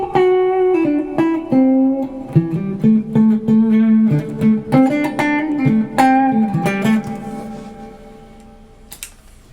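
An electric guitar played through a Vox Mini SuperBeetle amp, picked single notes and slides with bright harmonics, ringing out and fading at the end.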